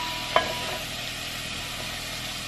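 Ground pork browning in a pan for pork giniling, a steady soft sizzle with one brief clink of a utensil near the start, no voices.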